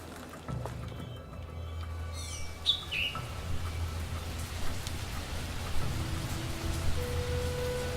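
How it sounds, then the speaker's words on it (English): Rain falls steadily at rock-climbing cliffs, a constant patter with low rumbling underneath, while birds chirp briefly in the middle. "the weather changed for the worse and it started to rain"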